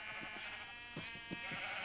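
Sheep in the Minecraft video game bleat several times in quick, uneven succession, moderately loud over a constant tonal backdrop.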